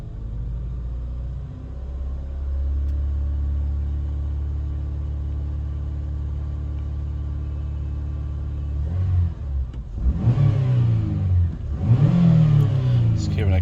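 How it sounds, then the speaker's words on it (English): A Vauxhall Astra 2.2 engine with a low fuel pressure fault idles with a steady rumble, then gets two sharp snap-throttle revs near the end that rise and drop back quickly. "Giving a couple of snap throttles."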